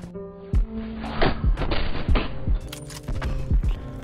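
Sniper rifle shots in the video game Black Ops 4 crack out as sharp, separate bursts, around eight spaced irregularly over a few seconds against a steady game background, with no talk.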